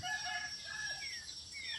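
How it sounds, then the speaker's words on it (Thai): A rooster crows over steady outdoor rural morning ambience near rice fields, its call fairly distant and not very loud. "ตื่นมาก็ได้ยินแต่เสียงเป็ดเสียงไก่"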